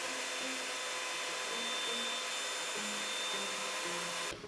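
A handheld blow dryer runs steadily at close range, a loud continuous whooshing roar with a faint wavering tone that holds for several seconds and then cuts off abruptly at the end.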